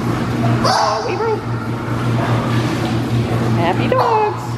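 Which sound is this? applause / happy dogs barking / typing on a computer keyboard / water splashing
happy dogs barking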